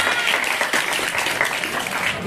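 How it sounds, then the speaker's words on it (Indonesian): Audience applause at a school speech event rolls on as a dense, steady patter of clapping from a crowd, loud and continuous throughout the short stretch. "tepuk tangan lagi"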